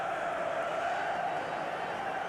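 A stadium crowd at a football match roars in a steady, dense wash of voices with no break, loud and far-off, like a broad wall of cheering.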